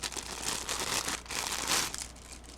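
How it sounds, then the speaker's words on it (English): Close, busy crinkling and rustling of plastic packaging in bursts as craft supplies such as lace are unwrapped. "Sorry for the crinkling."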